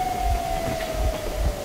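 A train rolls steadily in Metro Exodus, a constant low rumble with periodic thumps about every quarter second and a faint sustained tone sliding slowly downward, moderately loud with no voices.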